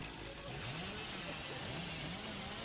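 Hillbilly's chainsaw revving in the Dead by Daylight video game, a buzzing motor whine rising and wavering in pitch, somewhat distant beneath steady game noise.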